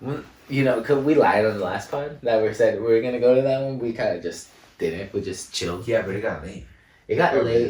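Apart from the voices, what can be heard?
No distinct noise like a dog, phone or traffic.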